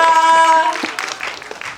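Audience applause at a movie stage greeting in a cinema, clapping from the crowd under a fading sustained musical tone, thinning into scattered claps within two seconds.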